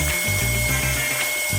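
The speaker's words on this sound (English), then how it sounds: "This is a sander I got from Harbor Freight." A Harbor Freight power sander works over a handmade wooden serving tray, giving a loud steady motor drone with a repeating chattering pulse as the pad moves across the wood, close and alone.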